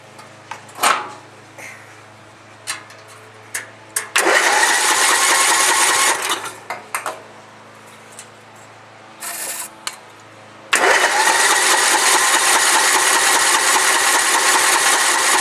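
A Murray push mower engine cranks with short pull-start bursts, then roars into loud, steady running twice, cutting out in between; the running stretches are sustained and close.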